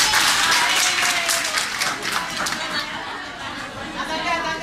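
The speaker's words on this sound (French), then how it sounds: "vous avez trop applaudi le monsieur là" An audience at an NGO gathering applauds a technical adviser, with dense, steady clapping filling the whole stretch at close range.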